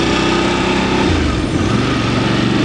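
A VOGE 900 motorcycle engine pulls in first gear on the road, a loud, continuous rumble that holds steady and dominates throughout.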